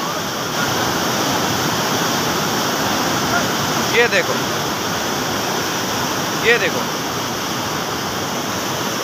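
Steady loud roar of rushing water under high pressure fills the whole clip, with someone speaking briefly over it.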